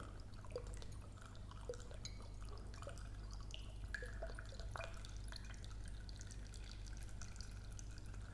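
Water, 500 millilitres, slowly added to a container, heard as faint scattered drips and small splashes over a steady low hum, quiet and close.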